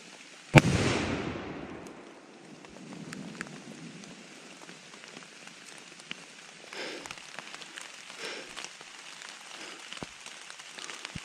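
A single loud, close gunshot is fired during a deer hunt to finish off a wounded buck. It cracks sharply near the start and echoes briefly, then quiet outdoor ambience with faint rustling follows.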